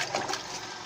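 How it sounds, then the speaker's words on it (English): Natrosol powder being poured and stirred into water while mixing a car wash product, giving a short, close liquid swish and trickle lasting under a second with no talking. "Now I pour in and stir."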